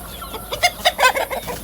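Roosters cluck and call in a backyard coop, several short clucks rising to a louder burst of calls, close by and without talk.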